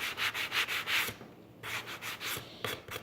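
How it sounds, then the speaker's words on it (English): A sanding block rubs back and forth along the edge of a wooden coat hook hanger decorated with a glued-on napkin, giving a run of rhythmic, close scratchy strokes, a short pause, then more strokes. "run the sanding block along that edge"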